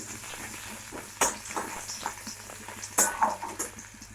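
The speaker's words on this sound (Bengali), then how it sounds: "জিরাটা ভাজা হয়ে গেছে, দিয়ে দেবো পেঁয়াজ।" Sliced onion hitting hot oil with fried cumin seeds, a soft continuous sizzle broken by two sharp clatters of a spoon stirring in the pan, close and fairly quiet with no voices.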